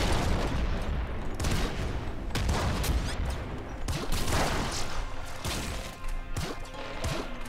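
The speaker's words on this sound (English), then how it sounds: "Plasma cannon." Plasma cannon fire and explosions in the video game Nuclear Throne come as a dense, continuous barrage of loud blasts and crashing impacts, stacked closely together with no talking over them.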